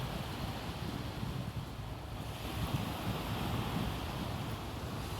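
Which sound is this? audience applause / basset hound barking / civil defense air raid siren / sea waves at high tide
sea waves at high tide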